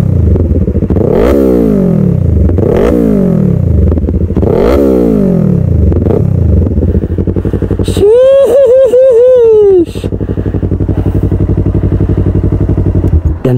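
Yamaha R3 motorcycle engine revved hard in several rising-and-falling sweeps, each climbing then dropping back, followed by a quick burst of rapid blips; loud and close, with a brief spoken exclamation.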